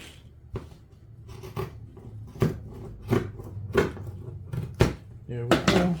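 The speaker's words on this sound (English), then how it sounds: "So I'm just going to cut right on that French seam." Scissors cut along an old French seam on a vinyl work truck seat, a series of crisp snips and clacks at an uneven rhythm, close and fairly loud, with brief handling noises between cuts.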